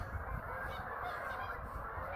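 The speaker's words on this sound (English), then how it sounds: "See all those geese? They're so noisy." A flock of geese by a river honks continuously, many overlapping calls forming a loud, dense, noisy chorus close by, with no talking.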